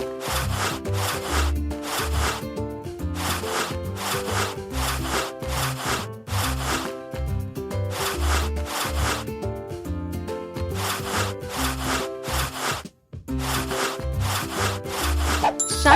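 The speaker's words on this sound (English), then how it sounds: "And now some serious rubbing." Vigorous scrubbing inside a refrigerator during cleaning produces loud, rhythmic back-and-forth rubbing strokes that run continuously with one brief pause, close up and without talk.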